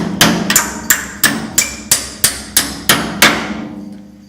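Around ten evenly spaced hammer taps ring out loud and close as a hinge shim is driven into a Model A Ford door, each blow thudding with a short metallic decay, and no voices.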